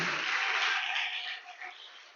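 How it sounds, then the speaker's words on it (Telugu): A church congregation at a gospel prayer fellowship in Nellore claps loudly together in a dense burst of applause that fades over about two seconds. "ఒకసారి గట్టిగా చప్పట్లు కొట్టి దేవుణ్ణి మహిమపరచండి"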